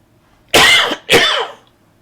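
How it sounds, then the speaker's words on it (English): A person gives two sharp coughs close to the microphone, the second trailing into a rough throat clearing, against near silence. "I needed to cough at that moment"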